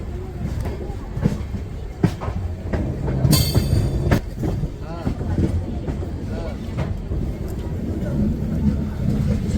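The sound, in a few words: Yoga Express 19032 train running on rails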